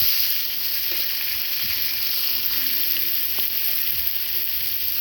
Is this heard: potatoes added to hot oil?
yes